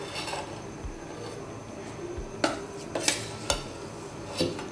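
Dough made from ration rice and jaggery for anarse is scraped out of a container, with scattered clinks and knocks of a utensil against the vessel and soft scraping between them, close and fairly quiet.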